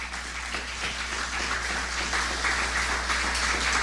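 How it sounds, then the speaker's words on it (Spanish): A church congregation applauds as an offering of praise, a dense, steady wash of clapping that stays even throughout, with a low hum underneath and no speech. "Le pongo una ofrenda de palmas al Señor."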